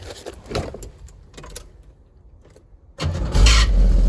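A Chevrolet Nova fitted with a new fuel system starts: faint clicks and cranking at first, then the engine catches at about three seconds and settles into a loud, steady idle.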